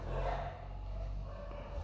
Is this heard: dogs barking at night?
yes